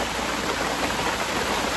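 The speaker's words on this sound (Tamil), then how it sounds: "பார்த்தீங்கன்னா ஃபுல்லாக மழை." Heavy rain pours steadily in Theni, a dense, unbroken hiss that holds close and even throughout with no voices.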